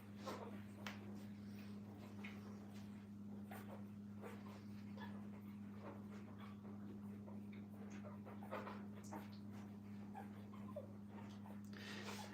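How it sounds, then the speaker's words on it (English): Puppies whimper and pant steadily while feeding in a kennel, with soft, faint whines and breathing over a constant low hum. "puppies make a lot of noise"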